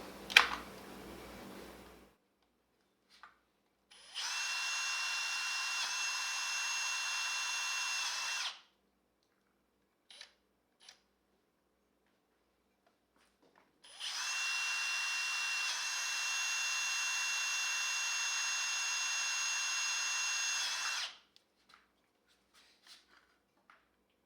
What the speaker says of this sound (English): and then we just drill.